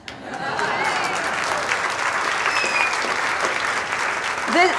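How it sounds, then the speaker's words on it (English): A room full of people at a trustees' dinner claps together in steady, sustained applause, loud and continuous from start to finish. "I hope everybody can applaud."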